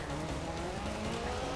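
A Ford Fiesta XR2 races in Forza Horizon 4, its engine holding a steady, rough drone with faint tyre noise underneath. The sound is continuous and close, and no one speaks.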